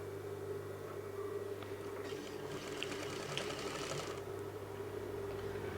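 A home sewing machine stitches the shoulder seam of a stretchy velvet shrug, giving off a quiet steady motor hum with a brief faster rattling run of stitching in the middle, faint and close.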